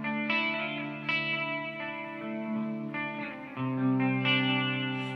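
Electric guitar notes running through the fourth playback head of a T-Rex Binson Echorec echo unit, with longer delayed repeats smearing into a sustained wash; steady, loud, instrument only, no voices.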